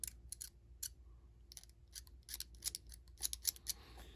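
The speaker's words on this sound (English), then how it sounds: "just get your knife and scrape away those seams" A hobby knife scrapes mould seams off a 1/16 Tamiya Bundeswehr tank crew plastic figure in short, crisp, irregular scratching strokes, close and quiet, with no talking.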